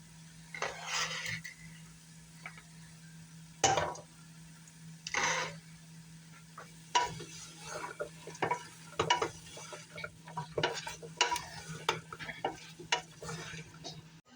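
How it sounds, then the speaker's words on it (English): Diced vegetables drop into a cooking pot with onions and zucchini and get stirred, giving scattered scraping and clattering bursts of varying loudness over a steady low hum. "I'm just going to throw it in the pot with the onions and the zucchini"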